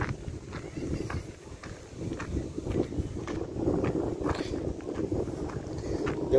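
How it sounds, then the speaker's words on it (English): Strong wind blows outdoors, a steady roaring rush buffeting the microphone throughout, loud and continuous with no speech over it. "The wind is really too much."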